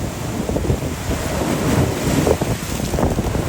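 Ocean waves surge against rocks during flooding in the Wildwoods, forcing water out through them. A steady roar of surf and churning water runs throughout, buffeted by heavy wind noise on the microphone, with no one talking.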